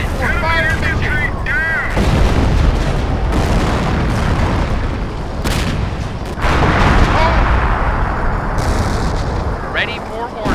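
Booming artillery blasts from a 105 fire mission in the Company of Heroes World War II strategy game, set in 1944 Montebourg, rumble repeatedly through a dense battlefield din of gunfire and radio chatter, loud and continuous.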